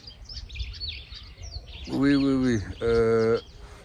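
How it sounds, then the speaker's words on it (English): A bird sings in a tree with two loud, clear whistled phrases close by, following softer scattered chirps; a voice is briefly audible underneath. "Here's a bird here in the tree that's extremely vocal, but quite pleasant."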